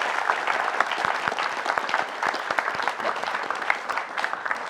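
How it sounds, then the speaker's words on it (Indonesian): A television studio audience claps to welcome a guest onto a talk show set, steady moderate applause with individual claps standing out, fairly close. "Tepuk tangan boleh buat narasumber saya pertama"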